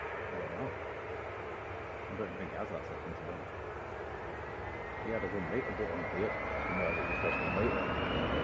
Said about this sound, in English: Jet 2 to Alicante, here it comes.